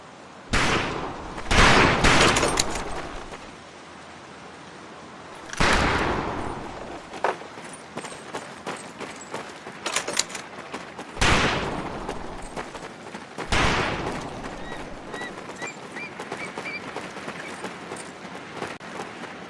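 Rifles fire on a boot camp shooting range in a video game, with loud single shots and rapid bursts arriving in clusters separated by quieter stretches, some ringing close and others farther off.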